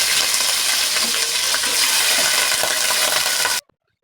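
Chicken pieces hitting hot oil in a pan while biryani is being made, giving a loud, dense sizzle that carries on steadily, then cuts off abruptly near the end.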